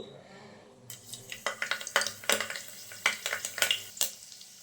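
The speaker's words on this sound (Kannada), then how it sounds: "ನಾನೀಗ ಕರಿಬೇವನ್ನ ಹಾಕೋತಿದ್ದೀನಿ." Curry leaves hit hot oil in a pan for greengram gravy, crackling and spitting in sharp, irregular pops that come thick and fast over a low sizzle, close and fairly loud.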